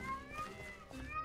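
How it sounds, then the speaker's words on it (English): Several cats meow in the Minecraft video game, overlapping high, drawn-out mewing tones that rise and fall continuously, fairly faint and with no talking over them. "Why do I hear a bunch of cats?"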